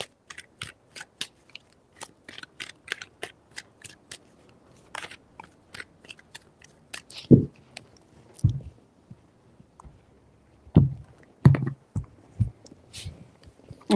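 Tarot cards being shuffled by hand in three rounds, a run of quick papery riffles and crisp flicks, with a few louder soft thumps as the deck is squared, close up with no talking.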